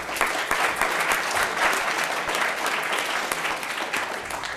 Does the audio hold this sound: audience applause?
yes